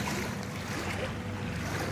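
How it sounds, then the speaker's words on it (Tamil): Heavy rain and strong wind sweep through Chennai during Cyclone Michaung, a dense, steady roar of hissing downpour and gusting air with no pauses. "மறுபடியும் மழை ஸ்டார்ட் ஆகிடுச்சு"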